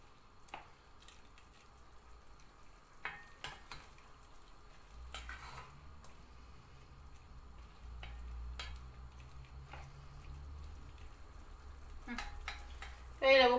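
Onion and green pepper frying in a pan, a soft low sizzle broken by occasional stirring scrapes and clinks, faint and close, with the sizzle growing steadier toward the end.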